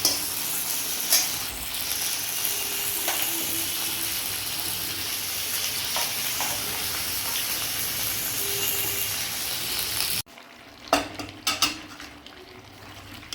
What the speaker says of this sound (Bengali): আর এর পাশে ফ্রাই করা হচ্ছে পেঁয়াজগুলো